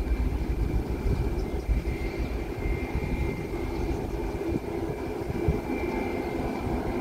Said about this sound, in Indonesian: sekarang pesawat Superjet sudah mulai putar haluan menghadap ke utara, persiapan take off